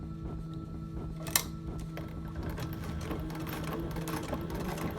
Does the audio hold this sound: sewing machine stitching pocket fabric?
yes